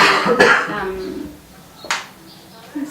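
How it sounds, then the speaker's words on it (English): One harsh cough up close, followed by a brief throat sound, with faint background noise and no talking, in Kathmandu, Nepal. "I've got the Kathmandu cough."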